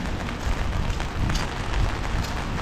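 Steady rain patters and hisses on surfaces nearby on a Doncaster street, a dense, even wash of drops without talk.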